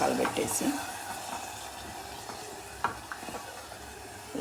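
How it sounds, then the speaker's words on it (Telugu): Water is poured into a potato and carrot curry simmering in a pan, followed by quiet stirring and a faint sizzle with occasional spoon knocks, all soft and close, while a voice speaks. "కొంచెం వాటర్ పోసేసి"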